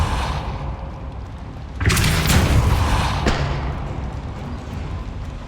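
Depulso spell cast in Hogwarts Legacy within a mysterious cavern, a sudden loud booming burst over steady background noise, followed by a second sharper crack about a second later, then a lingering rumble.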